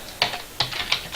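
A web address is typed on a computer keyboard as three sharp, evenly spaced key clacks with softer clicks between, close and short with no voices.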